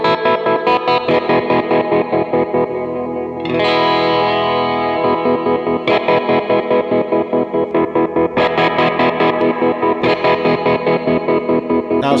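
Electric guitar run through a tremolo effect with a boost on a Quad Cortex modeler, playing loud, rhythmically pulsing chords whose volume chops on and off steadily, with a brief sustained swell midway; no talking.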